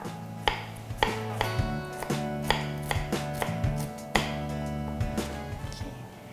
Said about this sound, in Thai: หัวหอมแดงเนี่ยเราจะมาซอยเขานะคะ ซอยบางๆนะคะ